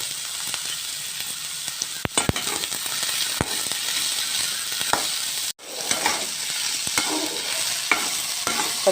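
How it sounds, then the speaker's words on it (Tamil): Ginger sautés in hot oil in a kadai, a steady close sizzle and hiss throughout, with occasional sharp scrapes and taps of a spoon stirring against the pan. "இஞ்சியை வதக்கிக்கணுங்க."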